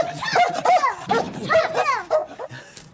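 A dog near the listener barks sharply and whimpers in bursts, agitated at a visitor at a home in China, with its yips coming in quick, uneven repeats.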